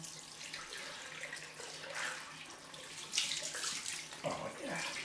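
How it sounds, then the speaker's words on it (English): A tap runs steadily for a cold rinse at a bathroom sink after a head shave, a faint, continuous splashing flow close by with small surges. "Cold rinse time."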